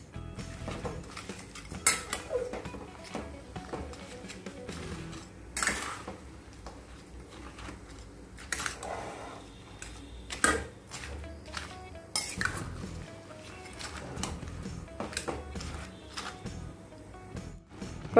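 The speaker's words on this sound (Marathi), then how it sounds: "हे आपल्याला मीडियम आचेवर असंच मिक्स करत राहायचं आहे 5 ते 10 मिनिटं, जोपर्यंत गूळ आपला वितळत नाही।" A spoon stirs melting jaggery in a kadhai on a gas stove over medium heat. Close, irregular metallic scrapes and clinks against the pan carry on steadily, with no speech.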